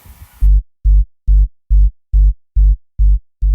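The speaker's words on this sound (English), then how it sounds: "Also got the bass layer here." Bass layer from a techno remix drop: eight loud, deep, sustained bass hits pulsing in an even rhythm, each cut off cleanly, alone after a brief muffled lead-in.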